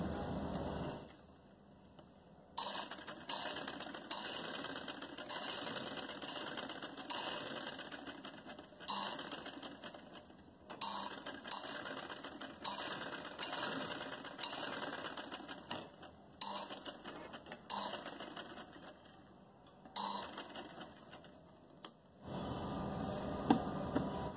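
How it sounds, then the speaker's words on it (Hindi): A sewing machine runs steadily, stitching a curved dress neckline, with brief pauses near the start and end and a sharp stop before the final seconds; no voices are heard. "हम अपनी सिलाई यहाँ से शुरू करेंगे और गोलाई में लेते हुए यहाँ पे हम अपनी सिलाई खत्म करेंगे।"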